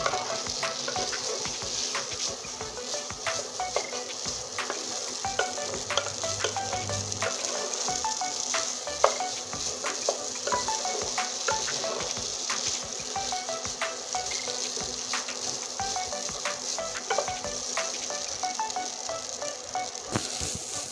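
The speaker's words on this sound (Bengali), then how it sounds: "এই দেখুন সুন্দর করে ভেজে নিব।" Maggi noodles with egg fry in a pan with a steady crackling sizzle throughout, close and continuous, with occasional stirring scrapes and clicks.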